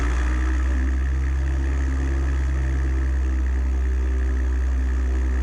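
A light aircraft piston engine held at 1,800 RPM during a run-up with the mixture full rich, a loud, steady droning hum with a strong low throb that stays even throughout, no speech.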